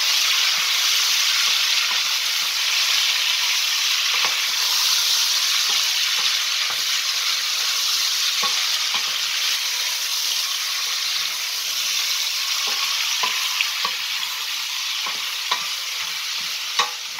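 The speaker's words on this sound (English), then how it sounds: "So I'll put that in to the hot oil. Sizzling away there." Steady, loud sizzling of beef browning in hot oil for a Thai curry, with scattered crackles and pops and occasional scraping stirs throughout.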